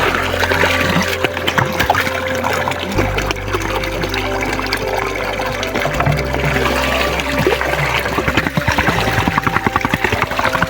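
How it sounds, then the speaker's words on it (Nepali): Water pours and trickles steadily for the whole stretch, a continuous splashing flow with a droning hum underneath. "अब यहाँ टक्क पानी थाप्ने हो"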